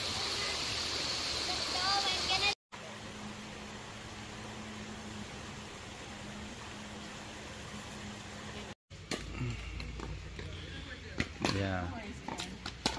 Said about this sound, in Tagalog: ilog na maliit.